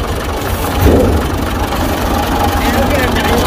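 The 3.3-litre three-cylinder engine of a Ford 4600 four-wheel-drive tractor runs at a steady, loud idle that holds constant throughout, with no voices over it.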